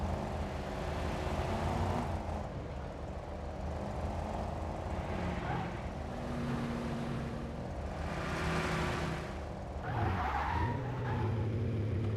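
Mercedes car engine in the driving game Car Simulator 2, a steady low motor drone with rising and falling revs and occasional tire-squeal-like bursts, faint and continuous throughout.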